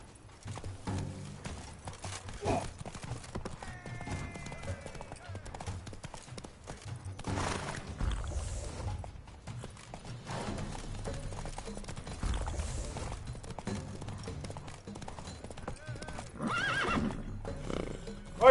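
Geralt's horse Roach gallops in The Witcher 3, with rapid rhythmic hoofbeats and repeated neighs and whinnies over ongoing game sounds and occasional voices.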